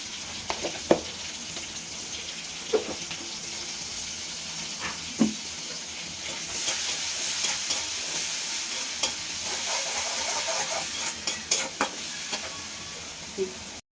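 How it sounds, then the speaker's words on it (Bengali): Chopped onion with green chilies frying in a pan for a katla fish and taro curry, a steady broad sizzle with brief scraping stirs throughout, the hiss growing louder midway, close and alone without talk. "এবার পেঁয়াজটা ভাজা হয়ে গেছে"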